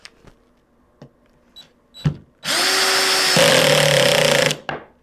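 A power drill drives a screw into wood at a higher torque setting: a few sharp clicks, then a loud, close, continuous whine lasting about two seconds that drops in pitch partway through before cutting off.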